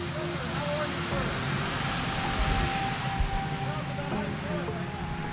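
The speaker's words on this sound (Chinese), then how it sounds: "不理会记者提问，直接登上直升机扬长而去" The Marine One presidential helicopter at the White House South Lawn lifts off with a loud, steady engine whine and rotor roar, a constant near drone with a faint tone throughout.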